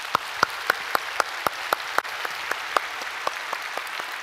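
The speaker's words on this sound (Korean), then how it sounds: "박수했으면 좋겠습니다" A church congregation claps for the Gloria choir at a Sunday service, producing a regular, rhythmic clapping in unison of roughly four beats per second, steady and moderately loud, with no voices.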